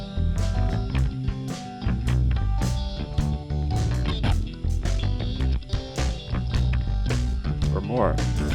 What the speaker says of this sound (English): it will cause one-sided saturation on a very gentle saturation curve